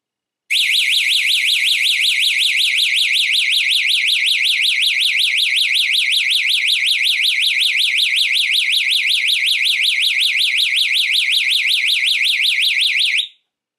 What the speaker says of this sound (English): the alarm is going to continue to sound